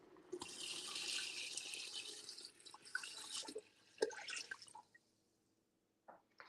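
Tap water runs into a pot, filling it with two gallons for fish stock: a steady splashing hiss with shifting gurgles, then the flow stops, leaving near silence and a brief final trickle.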